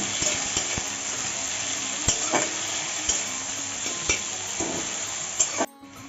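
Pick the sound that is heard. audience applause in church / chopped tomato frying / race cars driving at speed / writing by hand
chopped tomato frying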